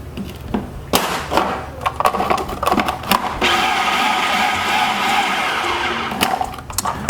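A food processor whirs through plant-based gluten-free brownie batter, with a short burst of blending early on, then a loud, steady motor drone that runs for several seconds before it winds down.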